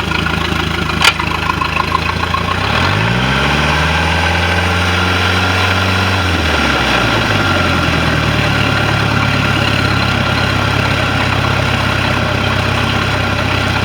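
A Mercruiser inboard/outboard boat engine with an overheating problem runs steadily, its pitch rising and dropping as it is shifted into gear and given throttle, then settling into a loud, continuous low rumble.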